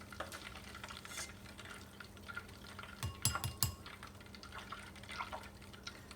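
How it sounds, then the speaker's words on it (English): Butter gently simmering in a pan for homemade ghee, a soft bubbling hiss with a few sharper clinks and taps near the middle, moderately quiet with no talking. "I'm gonna let it sit and simmer 5 minutes"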